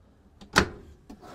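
A pull-out drawer in a 2022 Winnebago ERA 70B slides and stops with one sharp, close clack, followed by a softer knock a moment later in an otherwise quiet interior.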